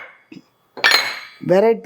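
Steel cooking bowls knock and clatter together in a few quick, close metallic clinks, with a brief bit of speech at the end.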